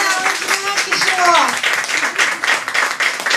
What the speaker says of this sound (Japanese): 拍手を。